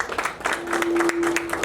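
Audience at a women's fifth anniversary gathering in Nairobi breaks into applause, a fairly close burst of scattered hand claps that continues throughout, with a faint steady tone running underneath.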